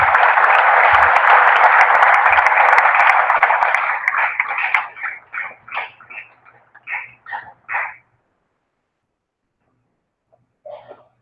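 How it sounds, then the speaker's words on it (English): Audience applause at a live talk event at the Barcelona Maker Faire, a dense, loud wash of clapping lasting about four seconds, then thinning into scattered individual claps before fading to near silence, with a brief faint voice at the end. "I would like you to welcome them with a warm applause"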